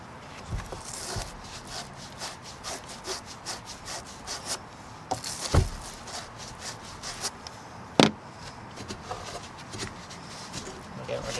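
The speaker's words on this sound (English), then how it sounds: "just trying to wipe away the corrosion." Parts in a Mazda3 engine bay are rubbed and wiped to clear corrosion, giving repeated scratchy scrubbing strokes with a couple of sharp knocks, close and fairly quiet, while a person talks.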